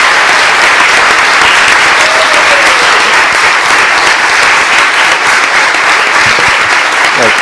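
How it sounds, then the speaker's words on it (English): Sustained, loud applause from a board of commissioners meeting audience in Nutley, NJ, honoring the children of a marching band, steady dense clapping filling the whole stretch without pause. "let's have one more round of applause"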